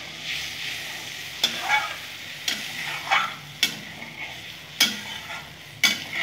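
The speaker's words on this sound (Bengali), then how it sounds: "ভালো করে নাড়িয়ে নেব।" A spoon stirs parshe fish curry in a pan after water goes in, with regular scraping strokes about once a second over a low, bubbling sizzle.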